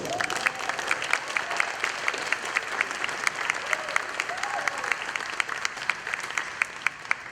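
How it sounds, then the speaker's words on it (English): An audience claps steadily for a community band performing in Houma, Terrebonne, a dense, continuous round of applause at moderate distance, with occasional faint voices within the crowd. "please give another round of applause to Mr. William Schiller"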